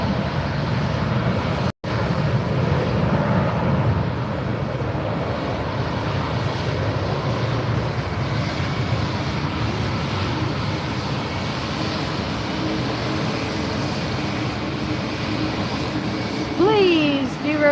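A passenger jet passes at Fort Lauderdale airport, a steady broad engine roar that holds loud across the whole stretch and swells slightly near the end.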